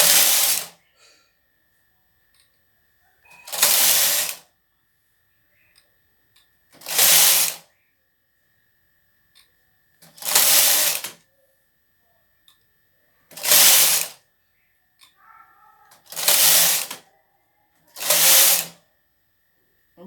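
A knitting machine carriage runs back and forth for a woollen design, making seven regular loud rattling sweeps, each a couple of seconds long, with near silence between passes.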